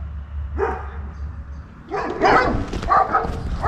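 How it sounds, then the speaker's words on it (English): Dogs behind a fence along a historic railway walking track bark and yip at a passer-by, a short first burst followed after a pause by louder, closer repeated barking. "Is that the name of those dogs? Anyway, they're not happy to see me."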